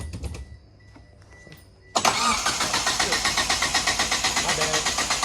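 After a quiet stretch, a Can-Am Spyder AWD with newly replaced end clutches is cranked, its starter churning loudly in a fast, even chugging rhythm that keeps going without the engine catching.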